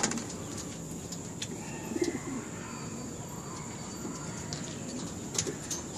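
Soft pigeon coos and a few chirps from racing pigeons inside a loft, low and continuous against steady room noise, with a couple of slightly louder calls near the start and end.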